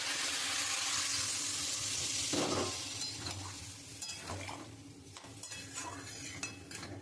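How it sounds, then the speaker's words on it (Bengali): Water poured into a frying pan of drumstick curry with potato and mustard-poppy paste, a loud sizzle and hiss that settles into softer bubbling with scattered utensil clinks and stirring, no voices. "আমি এখন পরিমাণ মতন জল দিয়ে দেবো।"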